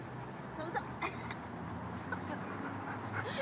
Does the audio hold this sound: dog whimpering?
yes